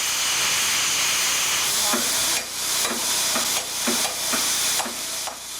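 Coal-fired steam locomotive engine number 14 gives off a loud, continuous steam hiss, with rhythmic chuffing pulses joining after about two seconds.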